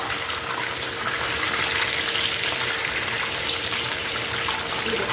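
Fish fries in a pan with a dense, continuous sizzle that stays loud and even throughout, with no voices over it.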